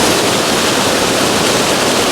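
Englishman River Falls on Vancouver Island pours down beside a rock, giving a steady, close, loud roar of falling water with no voices.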